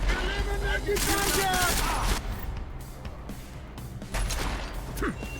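Gunfire in the video game Deus Ex: Mankind Divided: loud, dense bursts of shots and impacts, easing then returning, with game voices calling out over the combat.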